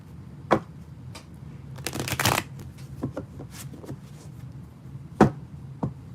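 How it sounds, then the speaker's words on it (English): Tarot cards shuffled by hand in several quick riffling bursts with sharp flicks between, close and fairly quiet, with no talking. "I could barely shuffle right now."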